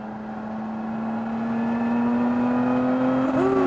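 A Lotus Emira sports car engine climbs steadily in pitch as it accelerates down a track straightaway, heard from inside the cabin as a loud, continuous rising drone.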